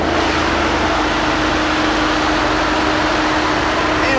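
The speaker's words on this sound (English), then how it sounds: "A little bit loud now, it was a cold start." A 2011 Ford Escape's 3-liter V6 idles after a cold start with a loud, steady, even engine drone that holds unbroken throughout.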